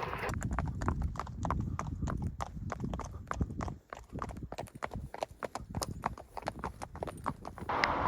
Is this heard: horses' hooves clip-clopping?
yes